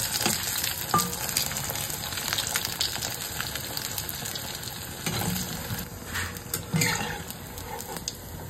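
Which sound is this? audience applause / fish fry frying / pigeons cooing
fish fry frying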